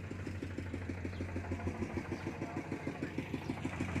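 A modified farm vehicle engine runs steadily with a rhythmic chugging pulse, close and loud, its idle thumping on without any voices.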